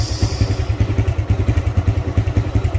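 A motorcycle engine idling right after being started, close and loud with a rapid, regular thumping pulse and light mechanical clatter, with no talk.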